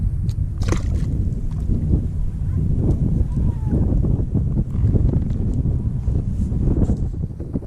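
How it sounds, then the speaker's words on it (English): Steady wind blowing across a lake at Woods Canyon, rushing and buffeting the microphone close up with low rumble, while water sloshes and gurgles around a float tube. "there's a lot more wind coming straight at me"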